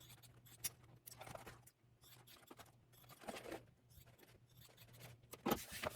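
Scissors trimming fabric seam allowances on a vertical toiletry pouch, giving a few faint, scattered snips and soft rubbing of cloth, quiet and close with no talking.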